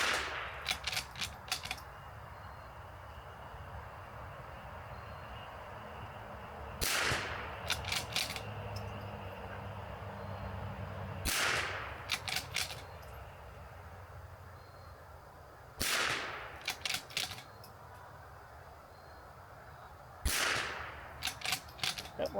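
Rimfire rifle shots from a Curtis precision rifle crack out one at a time at steady intervals, each sharp report with a brief echo, over a constant outdoor background hum.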